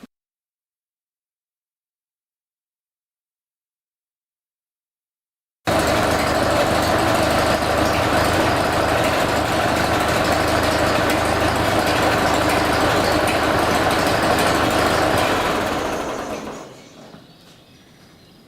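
A Ford 8N tractor engine fires up after about five seconds of silence and runs steadily and loudly at a fast idle, then cuts off near the end and fades to quiet.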